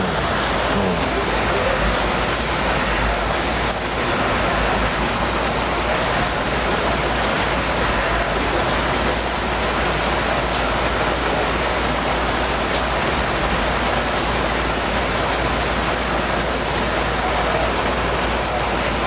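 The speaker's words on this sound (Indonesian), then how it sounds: "Kok pada hujan semua ya?" Steady, heavy rain falls on a surface with a continuous dense patter, loud and close throughout, with no voices over it.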